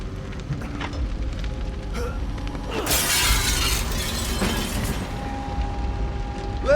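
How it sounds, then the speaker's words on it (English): Glass shattering in the survival horror game The Evil Within 2, a loud close crash with scattering debris midway, set over a steady rumbling game soundtrack. "So, break through the glass."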